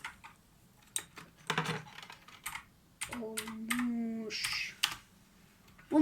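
Typing on a computer keyboard, irregular bursts of close, crisp key clicks separated by short pauses, with a brief muffled voice in the middle.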